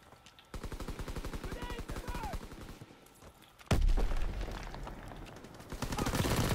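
A mounted machine gun fires in a WW2 game, a rapid sustained burst of loud shots, then a heavy blast and more gunfire, with a person talking over part of it.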